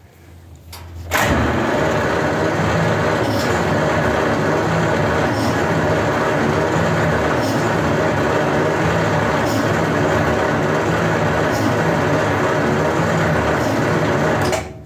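The starter cranks a 1939 Buick engine in a steady, rapid mechanical churn that kicks in after a second and keeps going loud and close for about fourteen seconds before stopping, with no voices.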